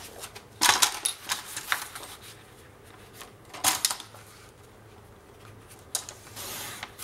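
Paper being cut for a scrapbook pop-up page, heard as three separate bursts of crisp snipping and slicing, close and fairly quiet, with short pauses between them and no talk.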